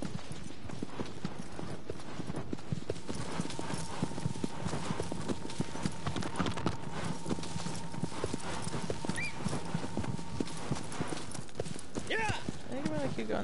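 Hooves of a horse in Shadow of the Colossus clop in a steady walking gait, close and continuous, with a faint sustained tone beneath and a brief whinny-like sound near the end.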